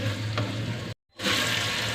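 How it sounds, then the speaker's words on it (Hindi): Potatoes frying in masala in a pan for aloo baingan sabzi, a steady sizzle that drops out briefly for a moment mid-way before resuming, with no voices. "तो आलू को हम 1 से 2 मिनट तक अच्छी तरह मसाले में फ्राई करेंगे।"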